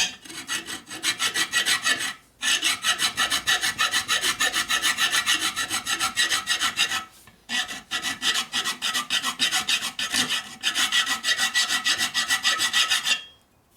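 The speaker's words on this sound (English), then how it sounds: "If you move your file around a lot in a circle, it keeps the surface flat." A hand file rasping over a 1972 Harley Sportster 1000cc Ironhead engine part, with rapid, steady back-and-forth strokes close up, in long continuous runs broken by two brief pauses, no talking.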